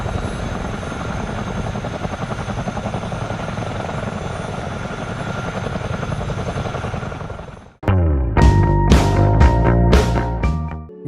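A helicopter's rotor in Microsoft Flight Simulator chops loudly and steadily for about eight seconds, then cuts abruptly to a burst of percussive music.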